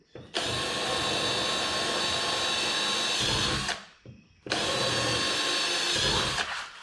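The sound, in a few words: power drill drilling holes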